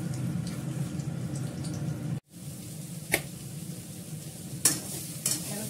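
Thinly sliced potatoes fry in a pan with a dense, steady sizzle up close, briefly cutting out before resuming, with a few light clicks of a utensil stirring.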